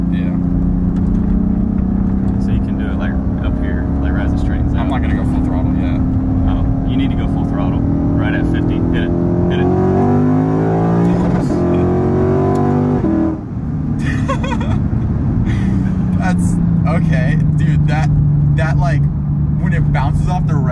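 A modified Lexus IS F V8 with a gutted exhaust revs hard and loud, pitch climbing in stepped surges until it bounces off the rev limiter in rapid stutters, then falls back to a steady idle, with people talking throughout.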